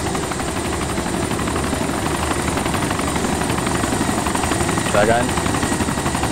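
Helicopter in the Armed Assault video game descending near a boat, a steady loud rotor drone filling the whole clip, with voices talking over it.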